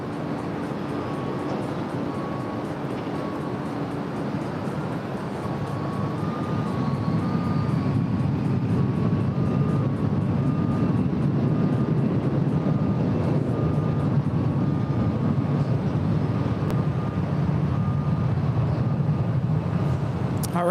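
A Delta airliner taking off from runway 24 left at LAX: a steady broadband jet roar that swells and stays loud and fairly distant after a few seconds, with a faint tonal hum and no talking.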